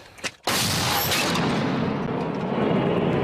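An artillery gun fires one powerful, close blast, followed by a long roaring wash of sound that slowly fades.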